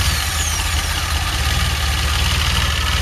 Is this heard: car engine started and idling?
yes